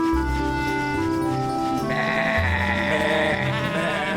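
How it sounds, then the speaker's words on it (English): Cartoon sheep bleat in a quick series of loud, wavering calls, one after another, close and clear with no talking. "Honk is teaching Woofie how to look after the sheep"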